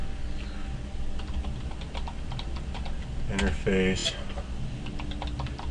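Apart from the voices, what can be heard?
typing commands on a computer keyboard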